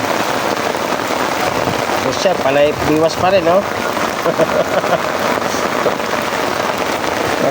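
Steady heavy rain pours down with a constant hiss and patter, while a person speaks briefly over it.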